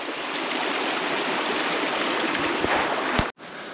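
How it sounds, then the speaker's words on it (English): A creek flows steadily with a broad, constant rush of water through the whole stretch, close and fairly loud, with a brief dropout near the end before the flow resumes. "There's no problem to cross this creek."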